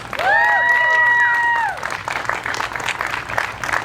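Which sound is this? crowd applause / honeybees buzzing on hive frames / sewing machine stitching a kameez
crowd applause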